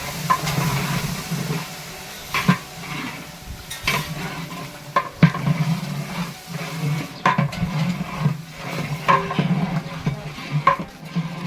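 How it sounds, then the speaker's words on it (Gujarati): Tempering for a dhokli vegetable curry sizzling in a pot, a steady crackle broken by repeated clinks and scrapes of a ladle against the metal, close and unaccompanied by speech. "મસ્ત મજાનો વઘાર લાગી ગયો છે ટોકરીના શાકનો"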